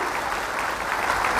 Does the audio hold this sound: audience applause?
yes